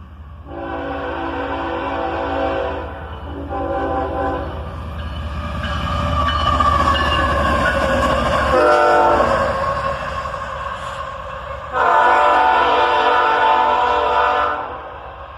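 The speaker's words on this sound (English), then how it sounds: "And an epic little horn show there," Two locomotives running light power through a town on a rail line, blasting a loud multi-note train horn in several long blasts with short gaps, over the steady rumble of the engines close by.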